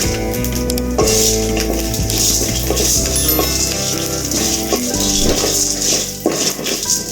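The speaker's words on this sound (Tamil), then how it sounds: "இந்த லைட்டாக வறுத்து எடுத்துட்டா போதும்" Cumin, fennel, urad dal, black pepper, curry leaves and two dried red chillies dry-roasting in a pan for raw banana podi curry, giving a steady, close crackling hiss with light stirring rattles, partly masked by continuous background music.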